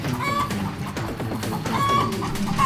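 Chickens cluck and squawk steadily throughout, close and fairly loud, in the back of a delivery trailer in an audio drama, with several birds overlapping in a busy, continuous racket.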